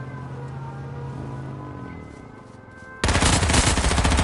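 Gunfire in the H1Z1 video game bursts in suddenly after engine-like tones and a whine, a loud, dense stream of rapid automatic shots that continues to the end.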